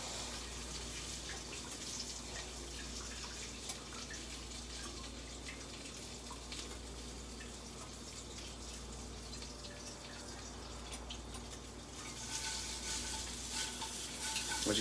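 Chicken sizzles and fries steadily in a hot pan with oil, a constant crackling hiss that swells slightly near the end as pieces are turned, with no talking.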